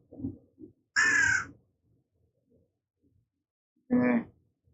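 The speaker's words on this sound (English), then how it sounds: "Oh, Crow." A crow caws twice, harsh and loud, a few seconds apart, with faint low murmurs and small background sounds in between.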